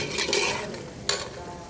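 A utensil stirring caramelized trinity vegetables in butter in a hot pan as a roux begins, with soft scraping strokes over a steady low sizzle and one sharper clack against the pan.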